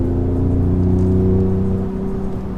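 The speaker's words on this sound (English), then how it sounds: "it holds the RPMs higher around the corners here" 2018 Ford Raptor engine held at high revs while the truck drives around corners, a steady, loud, close droning engine hum sustained throughout with a slight dip near the end.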